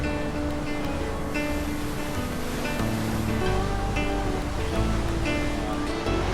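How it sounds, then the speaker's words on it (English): Temperance River waterfall on Minnesota's North Shore pours with a steady, dense roar of rushing water, loud and unbroken throughout, with a faint tonal hum in the background. "just another northern Minnesota, North Shore, very beautiful waterfall."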